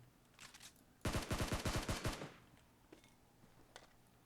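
A close burst of automatic gunfire in PUBG Mobile, around ten rapid shots in about a second, loud against a quiet background, followed by a few faint distant shots.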